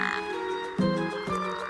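A male toad gives short, buzzy chirping release calls, a few quick pulses in a row, close by with faint background noise.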